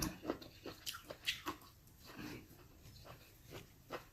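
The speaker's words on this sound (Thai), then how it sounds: "กรุบกรุบมาก" Quiet, close crunching and chewing of field snails with dipping sauce, with irregular crisp bites spaced through the clip and soft mouth sounds in between.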